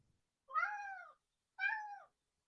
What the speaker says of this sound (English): My cat would like to introduce himself, apparently.